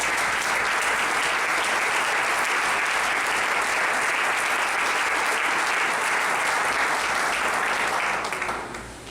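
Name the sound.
audience applause in a church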